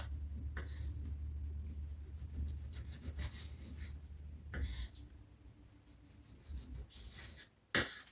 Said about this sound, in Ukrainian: Зараз нарізаю ось на такі невеличкі кубики, приблизно 2 на 2.